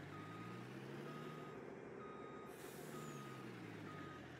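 Farming Simulator 19 truck backing up with a steady repeating reverse alarm beep over a low engine rumble and a brief hiss like an air brake, heard alone at a quiet level.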